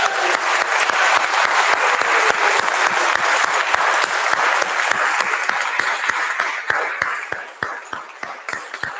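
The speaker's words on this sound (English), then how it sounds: "you must give another extraordinary round of applause to what we've just heard and seen" A festival audience applauds after a song performance, loud sustained clapping with a strong rhythmic beat of people clapping in unison, thinning slightly in the last seconds.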